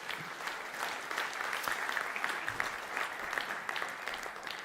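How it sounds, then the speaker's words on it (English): A church congregation at a Sunday service claps as people make their way up front, a steady, moderately distant round of applause lasting throughout. "Let's give them a round of applause."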